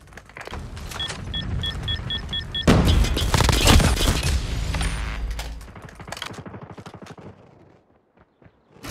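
A sentry gun in Call of Duty Mobile is deployed and fires, first a mechanical whirring setup with beeps, then a loud burst of rapid automatic gunfire that thins into scattered shots before fading out.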